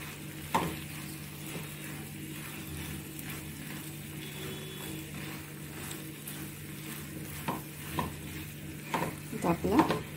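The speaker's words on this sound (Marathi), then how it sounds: "आता आपण या शिजवलेले पास्ता टाकू. ते त्या मसाल्यामध्ये परतून घेऊ." Cooked pasta is stirred and sautéed in a thick masala sauce in a pan, a soft, steady low sizzle with a spoon scraping and clinking against the pan, growing busier toward the end.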